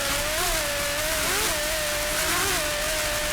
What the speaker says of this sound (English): Just listen to those Lamborghinis.